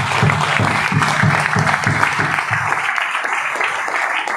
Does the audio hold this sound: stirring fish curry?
no